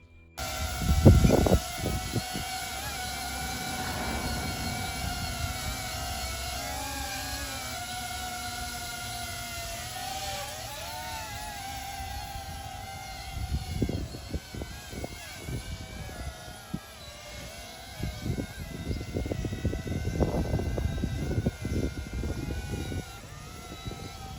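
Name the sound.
DJI Avata 2 FPV drone flying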